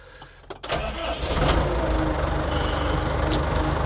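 A Case 4230 4x4 loader tractor's diesel engine cranks briefly and catches, then settles into a loud, steady idle rumble that fills the rest of the moment.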